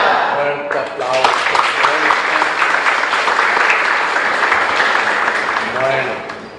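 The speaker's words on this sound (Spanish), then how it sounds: "Fuerte aplauso." Loud, sustained applause from a congregation at a live Catholic Mass in the Capilla María Auxiliadora chapel in Ñemby, with cheering voices mixed into the dense clapping, which rises quickly and holds steady before fading.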